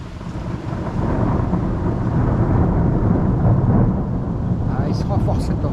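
Thunder from a severe electrical storm over Liège, Belgium rolls as a long, deep, continuous rumble at steady volume, with a few faint higher chirps near the end.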